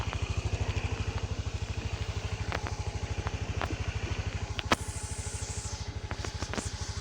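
A motorcycle engine chugs in a steady, rapid pulsing rhythm close by while riding on Palawan roads, with occasional clicks and rattles over the running motor.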